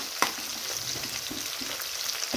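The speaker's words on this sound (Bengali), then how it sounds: "আর লঙ্কা দিয়ে দিল। পেঁয়াজটাকে ভেজে নিবে।" Chopped onion and chili fry in a pan with a continuous close sizzle, broken by a few soft stirring scrapes and one light knock, no voices.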